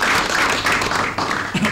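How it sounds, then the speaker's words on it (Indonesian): Applause in a TV studio after an interview segment, a continuous wash of clapping from a group that stays fairly loud and steady, dipping briefly midway before picking back up. "Tepuk tangan pemuda muslimin"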